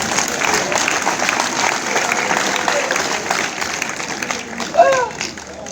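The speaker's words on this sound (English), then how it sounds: "Clap for Jesus Christ." A church congregation claps together in a sustained, fairly even wash of hand claps, with a brief vocal cry near the end.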